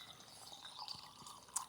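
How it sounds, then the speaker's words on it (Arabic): Water is collected from a natural source at a campsite in Switzerland, with faint trickling, dripping and gurgling and a few small splashes over a quiet outdoor background. "تعالوا بس شوفوا منين نحن عم نعبي المي"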